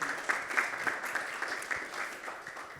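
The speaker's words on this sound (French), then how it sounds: "Antoine, qu'on applaudit, bien sûr." Applause from an audience at a startup awards ceremony, steady crowd clapping with a few sharper claps standing out, moderately loud and sustained throughout.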